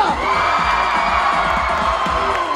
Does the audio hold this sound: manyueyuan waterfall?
no